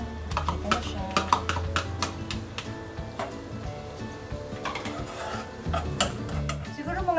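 Garlic and onion sautéing in butter in a pan for pasta carbonara, with soft sizzling under busy clinks and scrapes of a utensil against the pan while a person talks.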